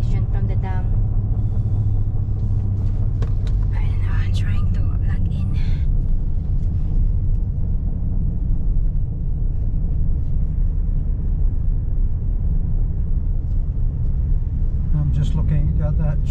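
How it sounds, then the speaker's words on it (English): A truck driving just ahead on a rural road in the Philippines at harvest time, heard as a steady, loud low engine and road rumble that continues unbroken throughout. "Truck in front,"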